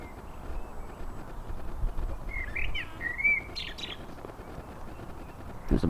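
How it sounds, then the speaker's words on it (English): A bird calls loudly from a bush of bright yellow blooms in late spring, giving a few short chirping phrases midway over a steady outdoor background hiss, with no voices. "There's a bird up there making a lot of noise."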